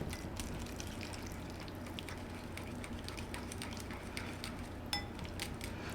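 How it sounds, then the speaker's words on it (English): A whisk mashes and stirs avocado oil, maple syrup and vanilla extract in a bowl for vegan gluten-free muffin batter, making steady close scraping and clinking against the bowl with a wet churning texture and no voices. "grab our whisk, and just start to mash that in"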